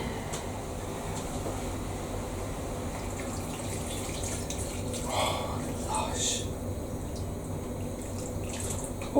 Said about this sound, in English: get your stock in.